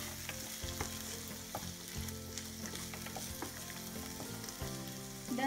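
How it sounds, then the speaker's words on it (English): Onions and green peas sizzle steadily in a pan on a reduced flame for poha, with a spoon stirring and scraping through them in repeated clinks over a continuous fry. "add green peas and give it a good mix"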